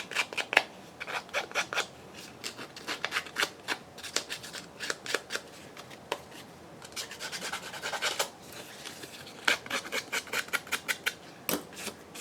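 Paper edge being roughed up by hand for a Victorian-style lace journal page, heard as a quiet run of quick, dry scraping strokes in short bursts with brief pauses, close and alone.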